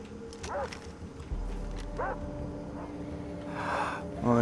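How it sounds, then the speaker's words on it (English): Several dogs bark and yip in the Far Cry 3 video game, short sharp calls at intervals over steady game ambience and a low rumble. "there's a lot of dogs, isn't there?"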